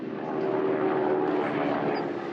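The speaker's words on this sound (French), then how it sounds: "un avion, le Lysander, capable de décoller et d'atterrir sur un petit terrain" Lysander propeller airplane flying, a steady droning engine hum that holds at an even, moderately loud level throughout with no voices.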